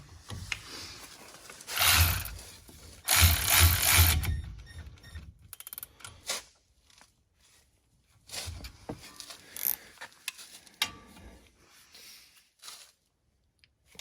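Brake caliper bolts on a 2016 Ford Fusion being snugged with a Milwaukee tool and then tightened by hand, giving close mechanical whirs and ratcheting clicks in uneven bursts with quiet gaps between them.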